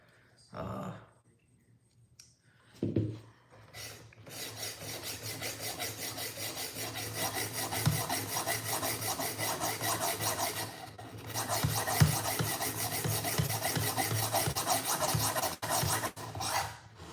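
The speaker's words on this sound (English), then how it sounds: "I'm sharpening a knife." A Benchmade knife drawn against a sharpening stone gives a steady, continuous rasping scrape that runs for many seconds after a couple of short bumps at the start, close and fairly loud, with a voice faintly present.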